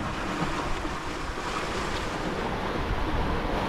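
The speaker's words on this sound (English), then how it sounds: "the wind gradually increased, and soon I was surfing down waves again, going over 8 knots" Ocean waves rush and wind roars in a steady, loud wash around a 47-year-old sailboat under sail with no engine. The noise is continuous and close, with wind buffeting the microphone and no talk.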